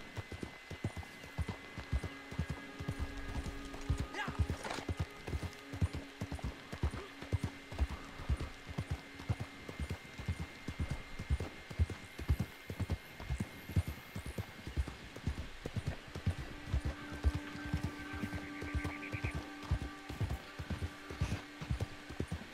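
Horse hooves in Red Dead Online, a steady rapid clip-clop of riding horses running throughout, with a brief whinny and faint game sounds underneath.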